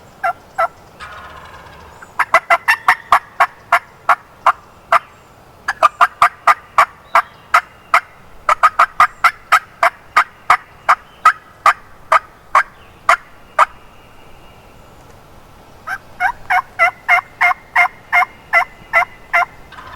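A wild turkey gobbles repeatedly during a hunt in a South Carolina national forest. The loud, close, sharp gobbling bursts come in rapid runs separated by brief pauses, alone over quiet woodland ambience.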